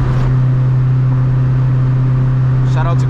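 A B-series hatchback engine revving during a downshift, a loud, steady droning hum heard from inside the car, with a brief voice at the end.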